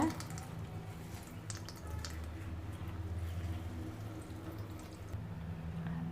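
Homemade chenna for rasgulla squeezed by hand, with faint wet squishing and water dripping away, quiet and steady throughout.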